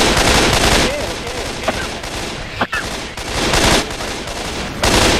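Rapid bursts of gunfire rattle loudly and almost continuously in the Left 4 Dead 2 video game, a near, dense fusillade with brief gaps.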